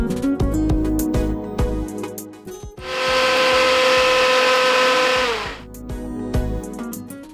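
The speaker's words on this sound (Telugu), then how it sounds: "ఇలా మిక్సీ పట్టేసుకున్నాము కొబ్బరి తురుము, సోంప్ అండ్ వాముని" A kitchen mixer grinder grinds grated coconut, fennel and ajwain in a loud, steady burst of about two and a half seconds mid-clip, with other sounds before and after.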